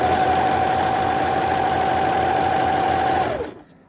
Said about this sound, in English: so that it matches the length of the fabric, and then sewing them together as I do so.